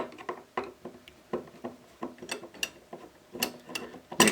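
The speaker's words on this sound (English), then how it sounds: "we'll remove the 3 screws that are located below that" A screwdriver backs out the screws of a trunk center latch with handle, making steady, moderately loud ratchet-like clicks in a regular rhythm that speeds up near the end.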